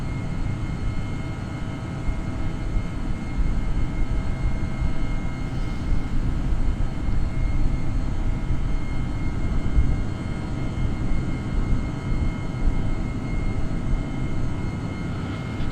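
Airbus A318 engines climb on autothrottle in Microsoft Flight Simulator 2020, a steady loud low roar with a faint high whine running continuously without talk.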